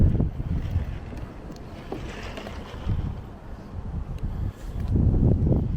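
Wind buffets the microphone during a boat ride over a mangrove area at Historic Spanish Point in Florida, a steady rushing roar with gusty swells and water noise beneath, no talking.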